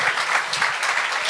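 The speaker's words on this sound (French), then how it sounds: "est-ce qu'on peut les applaudir?" A live comedy show audience claps for young comedians waiting backstage, a thick, loud wash of applause from many hands that holds steady throughout, with no voices heard.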